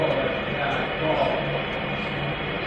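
Muffled sports broadcast from a radio in a shower, a faint, distant murmur of commentary buried under steady hiss and low hum.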